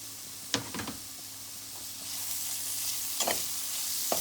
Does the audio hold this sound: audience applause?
no